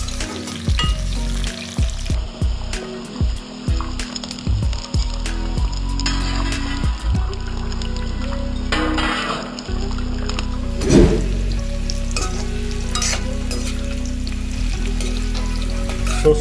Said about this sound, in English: Shallow fry on high flame.